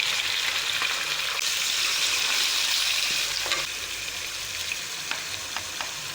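Minced meat frying in a kadhai with a cup of oil and garlic-ginger paste, a steady loud sizzle with stirring scrapes and a few sharp spatula clicks toward the end.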